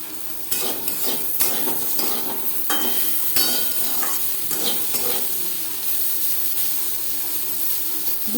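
Bitter gourd slices fried in a little oil in a pan, with a steady sizzle and repeated scraping strokes of a spatula as the pieces are stirred close by.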